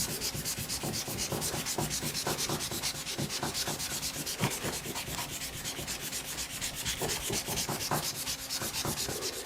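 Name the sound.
hand rubbing and polishing chrome bike front suspension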